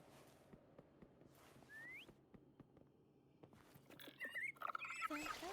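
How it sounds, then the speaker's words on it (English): A short tonal whistle, a quick rising note followed later by brighter chirping whistles, calls a companion in the Wuthering Waves video game. It sounds faint and close over a low game ambience, with no talking. "Try whistling."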